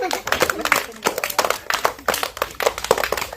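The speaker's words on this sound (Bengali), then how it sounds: "হাততালি হাততালি" Rhythmic hand clapping in quick, sharp bursts, played close up while people talk and call out over it, during a game of climbing a banana tree.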